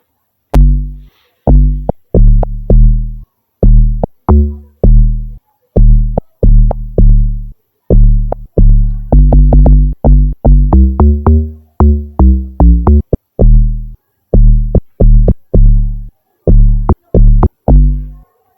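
An amapiano log drum pattern programmed in FL Studio Mobile thumps out deep, punchy booming hits in a steady, syncopated groove, loud and prominent with no voices over it.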